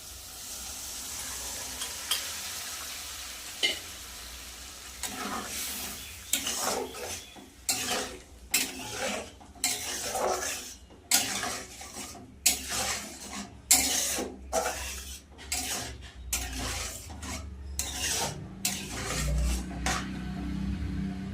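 Boiled chana dal goes into a pan of cooked spice masala. A soft sizzle runs first, then a long run of brisk metal-spoon stirring scrapes and clatters against the pan, loud and close, with no talking.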